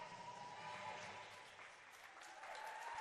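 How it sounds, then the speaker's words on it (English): Audience applause fills an indoor pool arena at a Wheaton College versus Stanford artistic swimming competition, a steady, fairly distant wash of clapping held for the whole stretch with a faint murmur beneath. "A huge round of applause for Lindy Schroeder and Yara Elion here"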